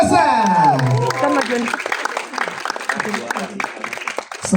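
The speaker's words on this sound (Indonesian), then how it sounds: "Berikan tepuk tangan untuk Hana Malasa" An audience at a film press conference claps and cheers as cast members are introduced. The applause is moderate and sits under a host's amplified voice.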